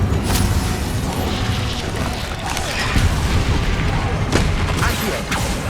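An Incendio fire spell cast in combat in Hogwarts Legacy on PS5, a booming burst with crackling impacts amid continuous loud battle noise and sharp hits scattered throughout.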